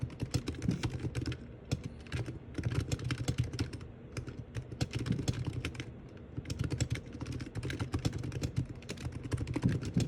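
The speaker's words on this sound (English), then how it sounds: "here's a quick little demo to hear it for yourself" Fast, continuous typing on a Razer Huntsman Mini keyboard with plastic keycaps, a close, clicky clatter of keystrokes with brief pauses between bursts.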